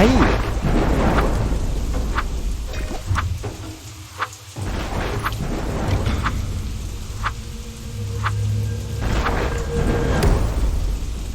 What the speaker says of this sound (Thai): แต่ในขณะนั้น ฝนก็เริ่มตกลงมา